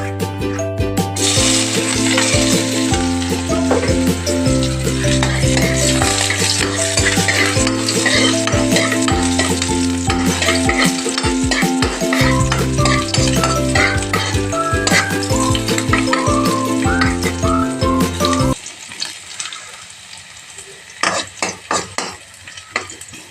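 Garlic, onion and ginger sauté in a pan with stirring and sizzling under loud background music. The music drops away near the end, leaving a few clattering kitchen sounds.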